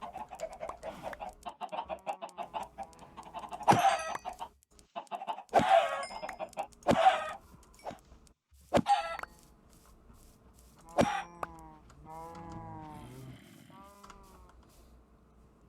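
Minecraft chickens cluck and squawk in a pen as they are slaughtered, with several sharp hit sounds punctuating the clucking and someone talking throughout.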